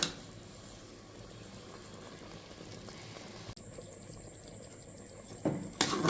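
Carrot halwa with sugar simmers in a pot, a quiet, continuous low bubbling and faint sizzle, with a brief click midway and a short clatter near the end.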